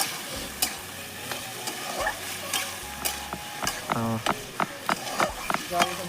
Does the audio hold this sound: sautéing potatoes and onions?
yes